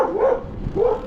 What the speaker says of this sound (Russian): какая злая собака там.